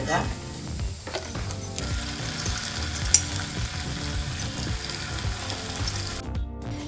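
Paneer pieces frying in a pan for a ghee roast, a dense continuous sizzle and crackle of hot ghee that stays loud throughout, then drops away abruptly near the end.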